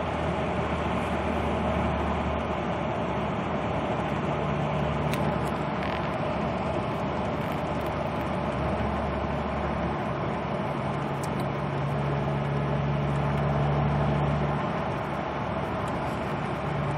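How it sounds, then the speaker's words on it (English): A VW Passat B5 with a boost problem cruises in fifth gear, giving a steady low engine drone and road rumble from inside the cabin with little change throughout. "Just cruising in fifth gear right now."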